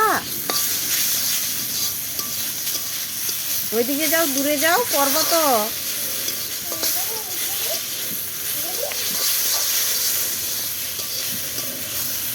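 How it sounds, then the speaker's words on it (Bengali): Eggplant slices frying in a pan with cumin paste, a steady close sizzle and hiss throughout, with voices talking over it in places. "এই যে বেগুন ভাজা করছি জিরে বাটা দিয়ে"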